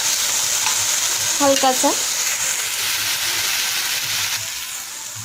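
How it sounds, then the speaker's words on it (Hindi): Chunks of suran, elephant foot yam, fry in hot oil with a steady close sizzle and hiss, while someone briefly speaks over it. "तो सूरन को थोड़ा सा फ्राई होने देंगे"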